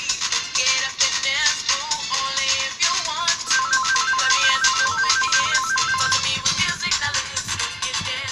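A telephone rings in a radio studio as a repeating electronic ringtone pattern, loud and steady, layered over continuous background music throughout.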